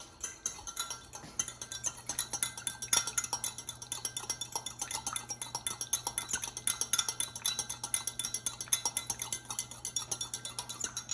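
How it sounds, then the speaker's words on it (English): A fork whisks balsamic vinegar and olive oil in a bowl, making quick, steady metallic clinks and taps in a brisk even rhythm, close and clear with no speech. "And now just whisk it with a fork until combined."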